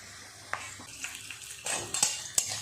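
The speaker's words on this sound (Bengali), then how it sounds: "আলু পেঁয়াজ এইভাবে একটু নেড়ে চেড়ে ভালো করে ভেজে নেব।" Potatoes and onions fry in a pan with a steady sizzle while a utensil stirs them, sharp scraping clinks and knocks coming irregularly and growing busier toward the end.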